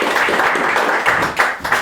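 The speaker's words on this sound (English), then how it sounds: "So I'll get a round of applause for Sean." A small club gathering, a radio society meeting, claps for a speaker. The applause is close and fairly loud, with uneven bursts of clapping across a brief moment.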